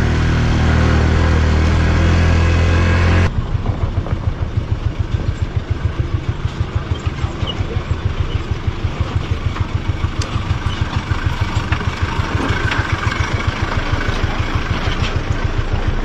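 A motorcycle engine idles and putters loudly up close with a steady rapid chugging, joined by faint clattering as it rumbles along a dirt mountain jeep track.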